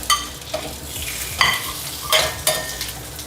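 Mushrooms and broccoli are stir-fried in a pan, with a steady close sizzle broken by several scraping stirs and clinks of a spatula against the pan, and no talking.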